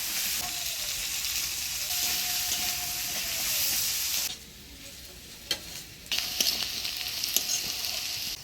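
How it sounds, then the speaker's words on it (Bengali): Onion fries with potatoes in a pan, a loud, steady sizzle that drops suddenly midway, then returns with stirring scrapes and clinks. "আলু ভাজার সাথে এরকম করে পেঁয়াজ ভাজা করলে খুব ভালো লাগে।"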